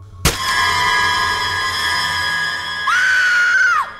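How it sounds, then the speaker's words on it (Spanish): A woman's dramatized scream of fear, a sharp piercing cry held loud and steady, then a second higher wailing scream that bends upward and cuts off abruptly. "Lila gritó de miedo al despertar"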